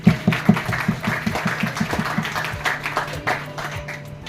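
A group claps at a school retirement ceremony for a teacher: brisk, rhythmic applause near the listener that starts strong and then softens into scattered claps, with some voices in the background.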